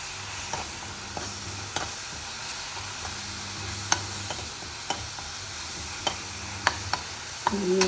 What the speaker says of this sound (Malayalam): അത് വാടില്ലതൊന്ന് ഇളക്കി കൊടുക്കുക.